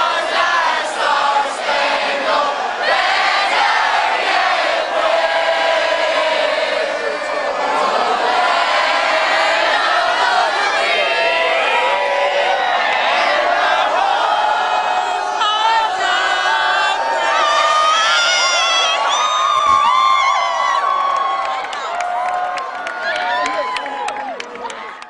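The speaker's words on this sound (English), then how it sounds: "There has been a lot of cheering here in the U.S. since the president announced the news." A large crowd cheering and whooping in the U.S. after a presidential announcement, loud and sustained with shouts, yells and scattered applause rising throughout, voices mixed into the roar.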